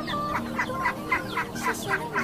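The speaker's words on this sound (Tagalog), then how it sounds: "Yung manghuni ng ibon" Chicken clucking outdoors in a rural province setting, a steady series of about nine short, evenly spaced calls from a hen or rooster at close range, with faint background ambience and no talk.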